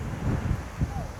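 Gusty wind buffets the microphone at a solo motorcycle campsite, with a low rumbling roar that swells and dips in uneven bursts.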